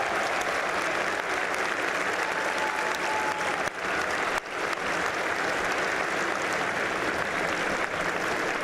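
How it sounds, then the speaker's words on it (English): Cadets of the South Carolina Corps at The Citadel military college break into sustained, dense applause after a speech, a broad even roar of clapping with two brief dips midway. "Give all of yourselves a round of applause."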